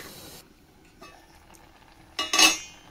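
Okra and potato curry stirred in a pan, with a few soft scrapes early on and a short, louder burst of clinking and scraping near the end, mostly quiet in between.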